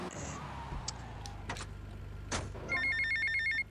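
Phone ringing in Grand Theft Auto: Vice City Definitive Edition, a rapid electronic ringtone trilling near the end after background game sounds and a few clicks, loud and with no talking.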